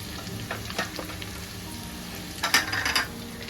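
Garlic fries in a pan for chilli chicken, a continuous close sizzle broken by a few utensil scrapes and stirring clinks, heaviest near the end.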